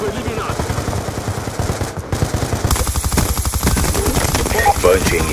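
Rapid machine gun bursts in an intense video game shootout, with a helicopter also in the fight: dense, rhythmic close-range fire, loud and nearly continuous, with game voices mixed in.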